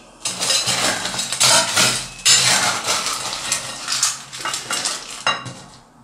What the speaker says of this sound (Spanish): Echamos hielo picado.